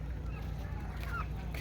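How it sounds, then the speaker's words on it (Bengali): Domestic desi chickens kept at a rural home give a few brief, faint clucking calls over a steady low background hum, with no talk. "আমি বাড়িতে দেশি মুরগি লালন পালন করি"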